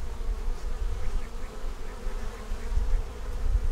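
Honey bees hum in a continuous, close swarm buzz during a nuc inspection, a dense drone that rises and falls slightly in strength, with no talk.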